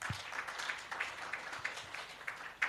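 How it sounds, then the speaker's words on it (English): Audience applause for the panelists at the 2023 RAAVC agricultural summit of the Limpopo Department of Agriculture, a faint, steady patter of scattered clapping from a moderate-sized crowd with a few sharper individual claps standing out. "Can we give them another round of applause?"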